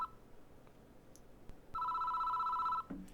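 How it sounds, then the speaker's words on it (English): A telephone rings inside the video game Spirit Hunter NG, one sustained electronic ring lasting about a second, fairly faint with quiet background around it. "It doesn't seem to want to stop ringing, so I reach for the phone."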